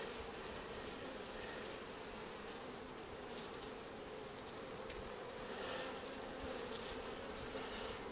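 Constant thick hum of a mass of honey bees in an open hive, close and even, with individual buzzes rising briefly over the drone.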